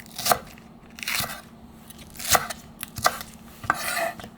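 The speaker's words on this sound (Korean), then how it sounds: "그냥 어슷어슷해서 썰어주세요." A knife slices green onion and chili pepper on a cutting board while spicy pork stir-fry is prepared: about five distinct chopping strikes, close and fairly loud, with faint kitchen clatter and no voices.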